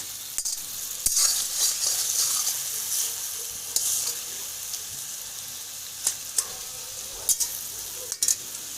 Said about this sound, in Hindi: अब हाई फ्लेम पे आपने इसको अच्छे तरीके से पकाना है।